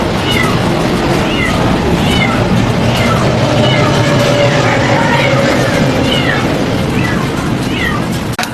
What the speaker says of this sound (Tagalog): meron ding pusa na meow na meow